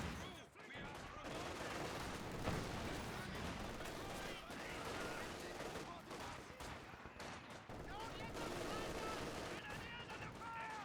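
MG42 machine gun firing in a Company of Heroes 2 battle between Soviet forces and German Grenadiers, dense continuous gunfire mixed with other weapons and battle noise, with a voice talking over it throughout.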